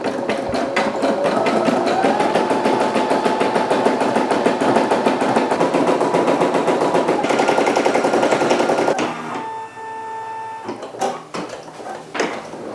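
An embroidery machine stitches a design with a steady, rapid mechanical chatter lasting about nine seconds, then drops to quieter whirring and a few clunks and beeps as it pauses.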